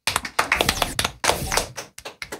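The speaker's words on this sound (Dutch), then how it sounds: "Applaus voor jezelf!" A small group in a podcast studio applauding briefly: close, uneven hand claps in quick irregular bursts, with a few sharp taps standing out, lasting only a couple of seconds.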